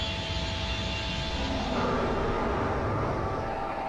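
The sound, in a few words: TIE bomber flying past in a Star Wars video game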